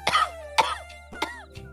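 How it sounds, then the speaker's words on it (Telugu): Harsh, close coughing in a village comedy sketch: four loud bursts in quick succession, each sharp at the start and trailing off, with short quiet gaps between them. "దగ్గుడొస్తానే"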